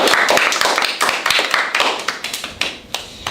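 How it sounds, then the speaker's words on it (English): A studio audience clapping for a TV talk show, loud close hand claps that start dense and thin out toward the end, with no talk over them. "give yourself a round of applause"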